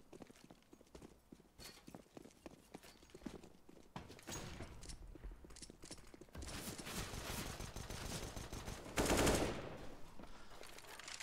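Rapid pistol gunfire from a Counter-Strike match on the Nuke map, with dense bursts of shots that build in intensity and peak in a loud volley near the end, mixed with other game effects.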